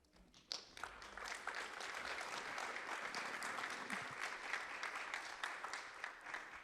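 An audience at an Asia CCUS Network forum breaks into sustained, even applause for an MOU signing, a dense clapping that rises quickly and holds steady from a moderate distance.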